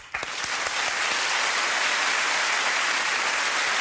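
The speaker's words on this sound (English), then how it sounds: "please give my guests a huge round of applause" A television studio audience bursts into applause at a Christmas show, the clapping swelling within a moment into a steady, dense roar that holds evenly to the end.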